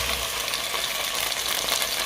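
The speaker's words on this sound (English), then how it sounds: "Then I add my tomatoes" Tomatoes hit a hot pot of sweet corn and soybean porridge, giving a loud, dense, continuous sizzle with no voices.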